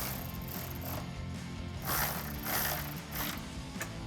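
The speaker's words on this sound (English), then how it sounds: "And then we can take a 15mm socket to tighten these down." A ratchet turning a 15mm socket to tighten exhaust nuts on a 2016-2023 Camaro SS during an MBRP axle-back install, giving a steady close mechanical clicking that swells in a few short bursts.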